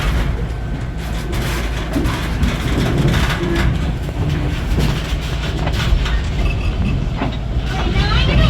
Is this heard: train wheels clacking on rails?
yes